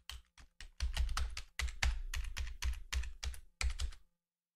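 Short bursts of keystrokes tap on a computer keyboard as a password is entered, a quick uneven run of close, crisp clicks with brief pauses between clusters, ending in silence.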